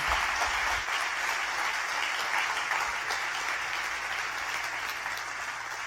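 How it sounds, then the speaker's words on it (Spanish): Sustained applause from a church congregation during a family-themed sermon, a dense steady wash of many hands clapping at even loudness for about six seconds, heard alone without talk. "Un aplauso a Dios por mis hijos."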